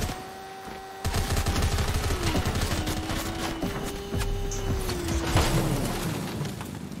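Rapid automatic gunfire in the video game Fortnite crackles in dense bursts over a steady engine-like drone and tonal game hum, loud and sustained with no talk.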